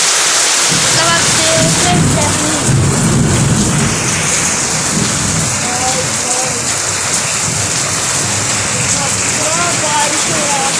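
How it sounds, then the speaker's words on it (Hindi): Heavy monsoon rain in Ramnagar, Bhilai, Chhattisgarh pours down in a loud, steady roar with a low rumble of thunder, while people talk faintly beneath the downpour. "बारिश हो रहा है कितना"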